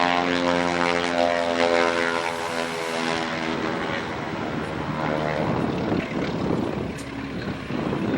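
A Beech 18 twin-propeller airplane makes a loud, close pass along the show line at an air show, its droning engine roar steady throughout, with crowd and announcer noise mixed beneath.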